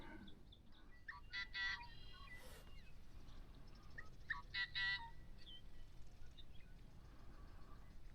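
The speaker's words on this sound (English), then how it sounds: "that bird that's over there, that sounds like a car horn or something" A distant bird gives short, honking calls in a few bursts, somewhat like a horn, over a quiet outdoor background.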